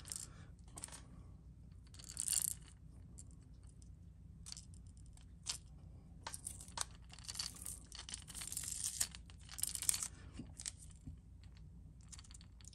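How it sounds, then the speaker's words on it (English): Adhesive tape peeled from a flat-sided Wiggle Wart crankbait lure during custom painting, giving quiet, close ripping and crinkling bursts in short, irregular pulls with brief pauses, and no one talking. "We'll go ahead and get this tape off"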